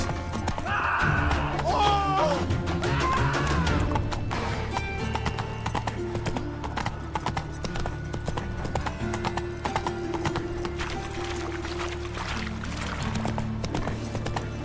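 A horse in The Witcher 3 galloping in rapid, rhythmic hoofbeats, loud and close, with a whinny near the start and a game music bed underneath.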